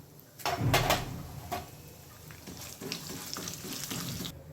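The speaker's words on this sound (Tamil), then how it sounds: "அடுத்து உளுந்து வறுத்து எடுத்துக்கலாம்" Urad dal is fried in a pan, with a close, steady crackling sizzle, a louder scrape of stirring near the start, and lighter rattles after it. Nobody speaks.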